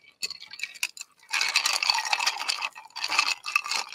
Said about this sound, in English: slowly, majestically stirring a drink like this